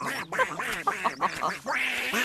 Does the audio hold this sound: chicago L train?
no